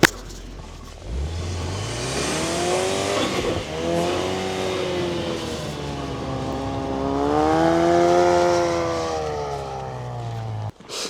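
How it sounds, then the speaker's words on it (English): A turbocharged engine revs up and down repeatedly, pitch rising and falling in long sweeps with turbo noise, close and fairly loud, cutting off sharply at the end. "do you hear your turbo? Do it again."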